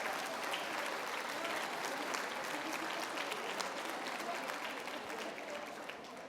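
A crowd at a conference presentation applauds a bilingual parent advisory committee, sustained even clapping from many hands that holds steady and eases slightly toward the end.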